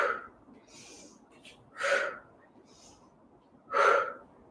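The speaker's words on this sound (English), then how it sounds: "you're just inhaling and exhale" Slow, deliberate breaths during a warm-up workout, two clear sharp exhalations spaced about two seconds apart with softer inhales between, close and fairly quiet.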